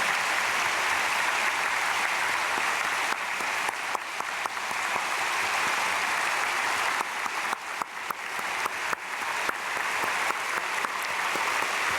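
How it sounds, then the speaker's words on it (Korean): A large crowd applauds in a church, loud, steady clapping that holds for the whole stretch without letting up. "우리 전해드릴 때 크게 박수로 감사드리면 감사하겠습니다"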